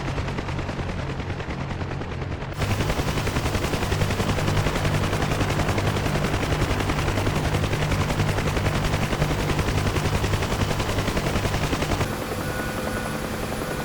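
Gunfire from an enemy camp in the DCS flight simulator during a helicopter convoy mission, rapid bursts of shots under the loud steady thrum of the helicopter rotor, with no talk.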